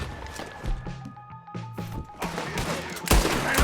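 Gunfire crackles in Red Dead Redemption 2 during a wagon shootout, with scattered shots and a dense burst of rapid fire near the end under a busy game soundscape.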